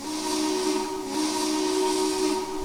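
Steam whistle of a Russian Decapod 2-10-0 locomotive in the Trainz railroad simulator game, a sustained loud tonal blast with breathy hiss, holding steady throughout with no talk.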